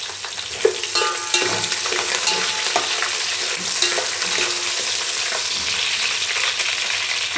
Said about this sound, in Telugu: ఉల్లిపాయ ముక్కలు కూడా వేసి వేయించుకుంటాను.